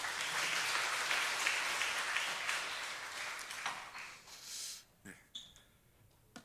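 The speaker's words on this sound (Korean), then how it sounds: "박수를 계속 치셔서 너무 감사합니다" Church congregation applauding a pastor as he comes up, steady broadband clapping for about five seconds that then fades into a few scattered claps and room quiet.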